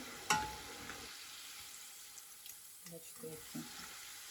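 Verguny, kefir dough fritters, frying in a pan, a faint low sizzle with a sharp clink at the start and a few soft stirring knocks toward the end, quiet and close.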